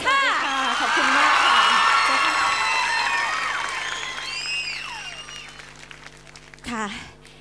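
A concert crowd at the My Days show claps loudly with whoops and cheers while a singer's amplified voice carries over the top, then the applause fades and a short burst of speech follows.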